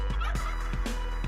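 A turkey gobbles repeatedly outdoors in a rapid, rattling series of loud, close calls.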